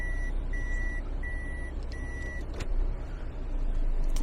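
A 2013 Toyota Estima Aeras reversing sensor sounds a steady run of evenly spaced high electronic beeps over a low idling engine hum, close and clear, with no speech.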